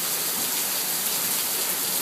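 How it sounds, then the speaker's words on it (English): Steady, dense rain pours down in Texas during summer, a continuous broadband hiss of drops on surfaces with no gaps or voices, loud and close throughout. "I'm going to show you some of the rain we got down here in Texas"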